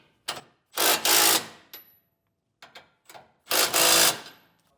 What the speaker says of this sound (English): we can come back with a 3/4 inch socket and snug it down.